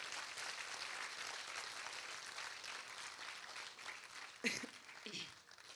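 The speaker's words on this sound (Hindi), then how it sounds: "एक बार तालियां बजाकर बताइए।" An audience at a Hindi comedy poetry gathering claps together, a dense, steady wash of applause that stays fairly faint and distant throughout before thinning out near the end.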